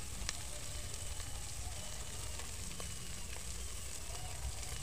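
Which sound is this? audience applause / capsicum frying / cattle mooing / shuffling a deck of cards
capsicum frying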